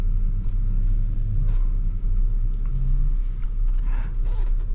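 A 2017 Ford Explorer Sport 4X4 backs out of a parking spot with a low, steady engine rumble heard from inside the cabin and faint clicks over it.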